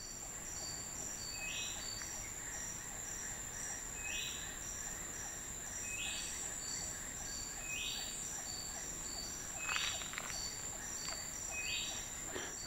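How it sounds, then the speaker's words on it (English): Jungle ambience beside the Kinabatangan River in Sabah, Malaysia: a steady, fairly faint cricket and insect trill with evenly repeated chirps and a few bird calls, with no voices. "this is what the jungle sounds like when there are no kids around"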